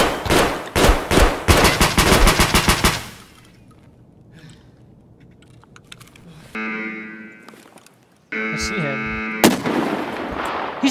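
A rapid burst of loud automatic gunfire crackles, then a quieter stretch, followed by electronic game sounds and more shots near the end.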